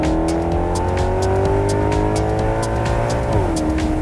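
Maserati GranCabrio MC engine revving in sport mode with the exhaust valves open, a loud, steady, throaty drone that climbs and then drops near the end, heard close with no talking.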